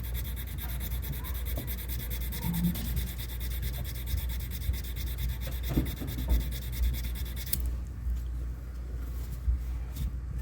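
Sandpaper on a sanding block rubbed over a firearm in steady back-and-forth strokes, a continuous close scratchy rasp with a soft rhythmic pulse.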